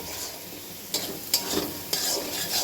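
Chicken curry with green chilli and chilli powder is stirred in a frying pan under a steady sizzle, with three or four distinct scraping strokes of the spoon. No one speaks.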